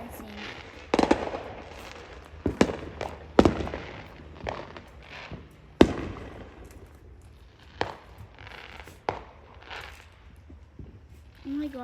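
Many fireworks bursting at once on a Fourth of July night near a church, sharp bangs and crackles at irregular intervals, some close and loud, others distant, with people talking in between.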